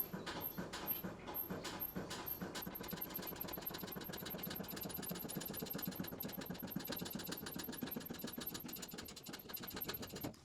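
A motorcycle lift table worked by a foot pedal slowly raises a lawnmower. It makes a faint, continuous mechanical chugging with a steady rhythmic knock that lasts throughout.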